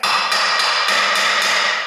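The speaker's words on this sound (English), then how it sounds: "just take your hammer, tap on the ears of the U-joint" A hammer taps on the ears of a U-joint fitted to a vehicle drive shaft, giving about five sharp metallic knocks evenly spaced over a ringing, close-up background.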